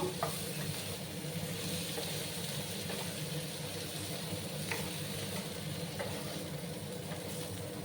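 Potatoes and raw plantains fry in hot oil in a pan, a steady close sizzle with occasional light scrapes and taps of a spatula.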